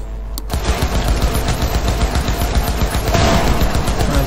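Rapid automatic gunfire from a gun in the video game Cyberpunk 2077, a loud continuous burst of shots that runs from about half a second in to the end, with no talking.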